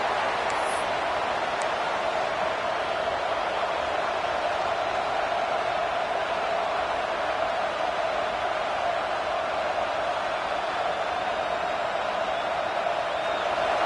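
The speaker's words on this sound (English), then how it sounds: "This crowd bringing the energy and noise early" Steady, dense crowd roar from a large stadium at a Clemson versus Nebraska football game, a continuous wash of cheering noise holding at an even level throughout.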